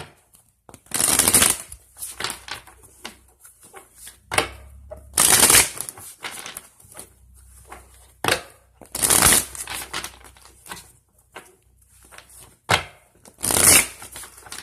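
Tarot and affirmation cards being shuffled, with several loud riffling bursts spread irregularly between quieter handling rustles, close and clear with no talking.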